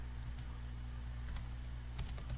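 Keys tapped on a computer keyboard while a name is entered, a few soft, sparse clicks over a constant low electrical hum.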